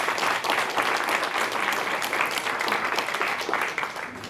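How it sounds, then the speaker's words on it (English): Audience applause fills a press conference room, a dense steady wash of many hands clapping at close-to-moderate distance, holding level before tapering slightly at the end. "I just want to applaud those who did this study."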